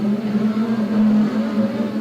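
Race cars roar steadily around a dirt speedway oval during weekly racing at Coles County Speedway, a loud sustained engine drone with slight shifts in pitch, heard without commentary.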